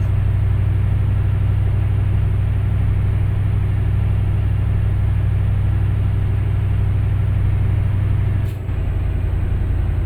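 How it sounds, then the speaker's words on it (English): A YMZ truck engine in Euro Truck Simulator 2 runs with a steady, loud low rumble, holding an even drone for the whole stretch with a brief dip near the end. "I'll try the other engine now. We'll try the YMZ engine out."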